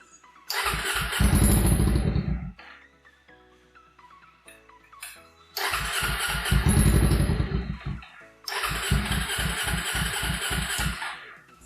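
A 2012 Kawasaki 250 motorcycle engine cranks three times in loud, close bursts of rapid chugging pulses, each lasting two to three seconds, with quiet gaps between and no catch into idle.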